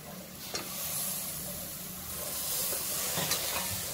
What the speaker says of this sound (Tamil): இப்போ எடுத்து வச்சு இந்த காய்கறி எல்லாத்தையும் ஆட் பண்ணிக்கலாம்.